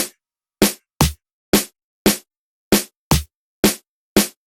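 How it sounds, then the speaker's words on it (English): Snare drum sample in FL Studio, struck nine times in a steady, slightly uneven pattern, each hit short and crisp with a quick decay, loud and isolated with no talk. "So we have this for the snare."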